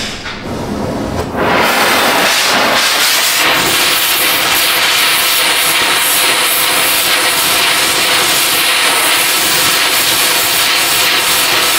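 A torch heating a rusted bolt on a rotted Subaru subframe gives a steady, loud hiss that starts after a brief quieter moment and holds unbroken to the end.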